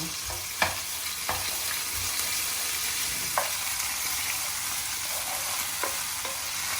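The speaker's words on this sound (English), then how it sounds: "melt down my anchovies in my pan, with a clove of garlic and some red hot chili peppers, and start to season the oil" Anchovies, garlic and red hot chili peppers sizzle steadily in oil in a pan, a constant close frying hiss broken by a few light clicks and scrapes of stirring.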